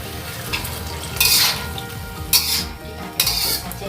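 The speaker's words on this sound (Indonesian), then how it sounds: "masukkan telur yang sudah digoreng, adukkan dia" Mustard greens and fried egg are stirred in a hot frying pan, with a steady sizzle and a few louder scraping, clattering bursts of the utensil against the pan.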